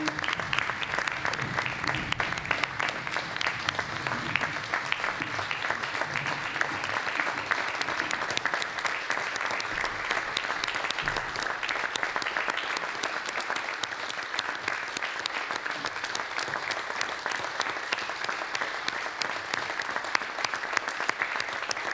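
A council chamber crowd gives a departing mayor a long standing ovation, with steady, dense applause that holds at an even level throughout without a break.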